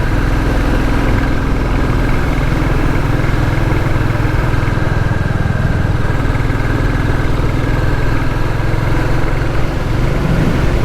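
A Royal Enfield Classic 350 single-cylinder motorcycle engine thrums steadily while riding along narrow country roads, a continuous close, loud low throb with wind rush and no speech.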